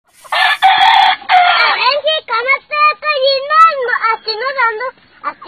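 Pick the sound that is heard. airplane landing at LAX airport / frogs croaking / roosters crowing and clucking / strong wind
roosters crowing and clucking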